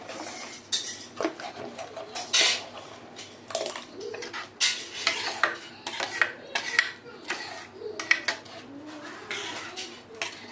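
A ladle scraping and clinking against a pot while breaking up lumps of spice powder in vatha kulambu, irregular metallic knocks and scrapes at close range over a low background.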